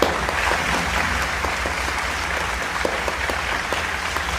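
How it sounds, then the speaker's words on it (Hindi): Sustained, dense applause from the audience at a Pakistani mushaira poetry gathering, loud and steady for the full length, with no voices on top. "एक बार जोरदार तालियां बजा दीजिए यार"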